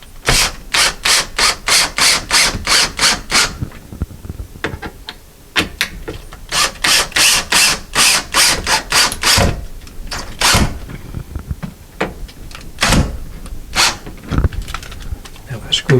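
A screw is driven into wood for a closet shelf: a power driver whirs in rapid pulsing bursts, pauses, then runs again in shorter spurts, close and loud, with a voice speaking in the gaps.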